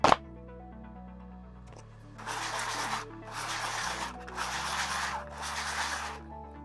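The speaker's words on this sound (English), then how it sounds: "Sanding it's easier before cutting the bottom off." Bursts of coarse scraping, like sandpaper rubbed over a hard plastic container, come in four rhythmic strokes, close by, over a faint background hum.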